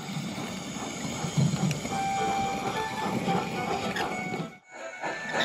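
A train rumbles steadily along the rails with a rhythmic clatter, then the sound briefly drops away before returning near the end.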